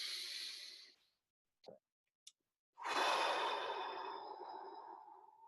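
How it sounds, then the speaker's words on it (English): Slow, deep human breaths: a long airy exhale fades out, a couple of brief soft sniffs follow, then a full drawn-out breath swells and trails off slowly, close and clear with no talking. "breathe using kind of a method of counting 5 on the inhale, 5 on the exhale"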